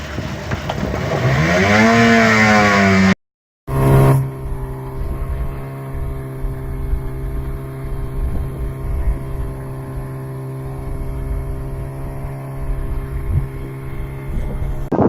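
A two-stroke speedboat engine revs up in a rising, rasping whine, cuts out abruptly, then restarts and settles into a loud, steady buzzing idle close by, with no voices.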